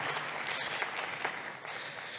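Audience applause at a tribute concert by a philharmonic orchestra for a diocese, a dense continuous wash of clapping heard alone.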